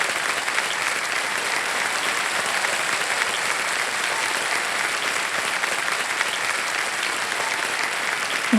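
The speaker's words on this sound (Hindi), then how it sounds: "तालियां बजती रहें इनके लिए।" A studio audience on a TV quiz show applauds a contestant in a sustained, dense burst of many hands clapping at once, steady and fairly loud throughout with no break.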